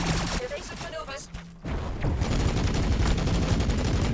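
Rapid bursts of bolter gunfire in the Warhammer 40000 Battlesector video game, loud crackling volleys layered over other battle sounds, with a short pause before the firing resumes dense and continuous.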